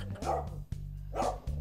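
A Shih Tzu guard dog barks at home in Bulacan, two sharp close barks with short yips between them, loud and clear with no talking.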